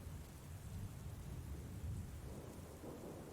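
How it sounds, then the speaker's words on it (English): Rolling thunder rumbles low and steady beneath a continuous hiss of rain, a dense, even storm ambience with no voices present. "You hear thunder because I've got rain in the background."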